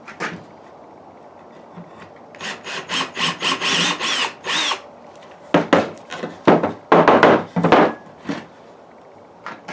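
A power drill bores holes into wood while a wooden Sharpie marker holder is built, sounding as a series of loud, close grinding bursts in two clusters separated by short pauses.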